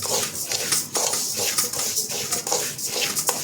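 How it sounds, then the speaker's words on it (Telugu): Rice washed by hand in water in a pot, making repeated swishing and sloshing bursts in an uneven rhythm, close and fairly loud, with no talking. "బియ్యం మంచిగా కడిగి ఆరబెట్టి వేయించుతాను."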